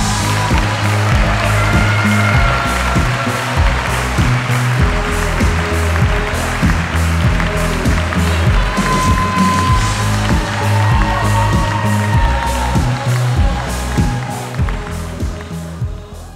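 Sustained audience applause and cheering at a German poetry slam, loud and dense throughout with crowd noise and rhythmic pulses, tapering slightly near the end.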